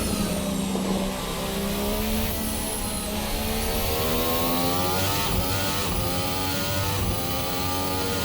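Formula Hybrid 2017 race car engine in a racing simulator on a qualifying lap, a loud, high-pitched open-wheel engine scream that shifts early on, then climbs steadily through the revs, heard from close by.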